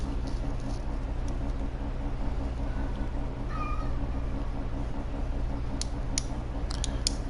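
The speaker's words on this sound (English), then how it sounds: "You guys can hear my cat meowing at nothing." A house cat meows a few times at moderate distance under a steady drone of computer and racing-game engine noise, with no one talking.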